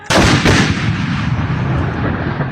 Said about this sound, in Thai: จุเรียบร้อย จับเชือกยิง